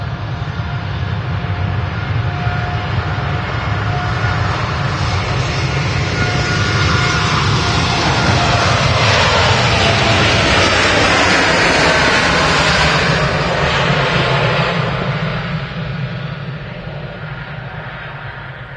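TUI Boeing 787-9 jet departing Manchester Airport for Cancun, a broad sustained engine roar swelling to a loud peak with Doppler-shifting tones as it passes close, then gradually fading, no voices.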